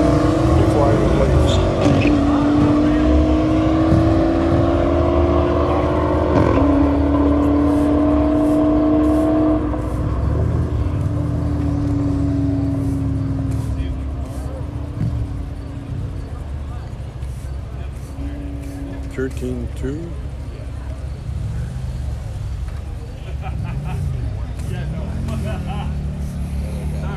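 A Cadillac launches at a drag strip late at night, its engine roaring loud and near, then climbing in pitch as it pulls away and fades under the distant din of other cars.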